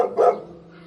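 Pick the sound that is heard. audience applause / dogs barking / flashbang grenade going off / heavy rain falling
dogs barking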